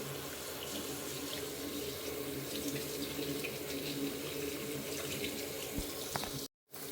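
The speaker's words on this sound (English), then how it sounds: "And let's check test the hot water out." Hot water runs steadily from a household tap after a gas central-heating boiler repair, a close, even rushing gush that briefly cuts out near the end.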